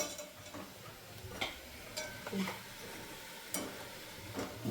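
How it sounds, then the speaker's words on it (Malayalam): Banana pieces frying in hot oil for a ripe banana pickle: a steady sizzle with occasional stirring clinks and scrapes of a utensil, moderately close. "ശരണ്യ അത് വറുത്ത് കോരിക്കൊണ്ടിരിക്കുകയാണ്."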